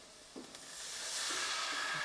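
Chicken sizzling in a hot pan, a steady broadband hiss that swells louder midway and stays up, with a few faint clinks near the start and no voices.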